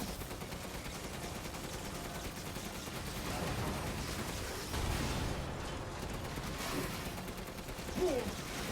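Heavy gunfire and booming blasts in Resident Evil Village, with a cannon firing amid a dense, continuous barrage of loud shots and impacts throughout.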